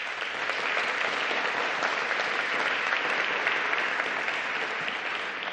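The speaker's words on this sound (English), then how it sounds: "A nice round of applause for them." A large audience at a healthy cities partnership summit in London gives a dense, sustained round of applause that holds at an even level from start to finish, with no voices above it.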